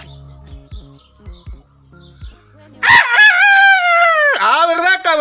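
A man imitates a rooster's crow back at his rooster: short clucking bursts at first, then a loud, long, wavering human cock-a-doodle-doo that dominates the second half, close to the microphone.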